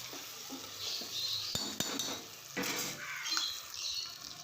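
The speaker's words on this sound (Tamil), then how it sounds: "நல்லா அந்த கிரேவிலேயே வந்து எக்ஸ் எல்லாம் வந்து பார்த்திங்கன்னா நல்லா ஃப்ரை பண்ணி விடணுங்க" Eggs frying in biryani masala gravy as a spoon stirs and scrapes the pan, giving a steady sizzle with scraping strokes and a few sharp utensil knocks.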